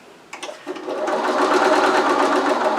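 A sewing machine stitches fabric for a holiday wreath: a few short starts, then a steady, close, continuous mechanical whir of rapid needle strokes with no talk.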